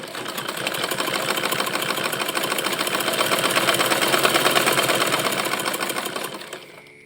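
An electric sewing machine stitches a hijab cap for about six seconds, running as a loud, steady, fast needle clatter close by that swells slightly and then winds down and stops.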